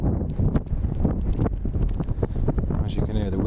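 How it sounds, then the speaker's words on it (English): Wind buffets a microphone outdoors in a park while photographing fallow deer, a steady low rumble and gusty roar under a voice talking throughout. "As you can hear, the wind's getting up quite a lot"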